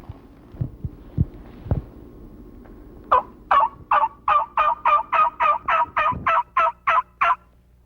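Wild turkey calling in spring timber: a few faint thumps, then a steady series of about fourteen evenly spaced, clear, fairly loud calls standing alone against a quiet background.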